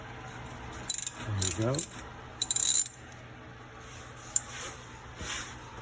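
A wrench works the brake caliper bolts loose on a 2012 Ford Escape, with short metallic clinks, a brief ratcheting rasp and scattered clanks close by; a voice says a few words partway through.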